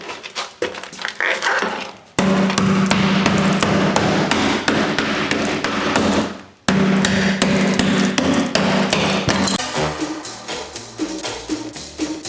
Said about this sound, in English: I'm hammering out tile.